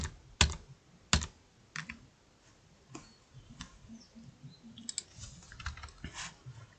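Computer keyboard keys are pressed for a Ctrl+Z undo, giving a few sharp key clicks followed by scattered lighter taps and clicks, quiet and close, with no talking.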